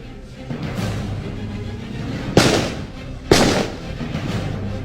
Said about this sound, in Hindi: फायर और दूसरी जानिब मुल्जमान की जानिब से भी फायर हो रहे हैं।